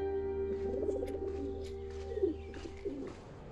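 A pigeon coos close by in a few soft, throaty bursts over a low steady hum, with no talk.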